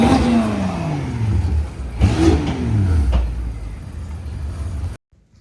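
A BMW X6M fitted with a cheap Alibaba aftermarket exhaust revs and accelerates, a deep, loud drone that climbs in pitch, surges again midway, then cuts off abruptly near the end.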